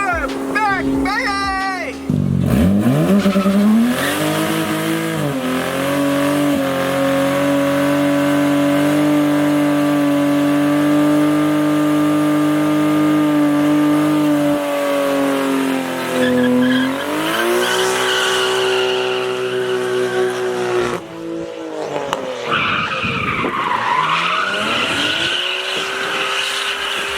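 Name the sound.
car with 1JZ engine doing burnouts, tires squealing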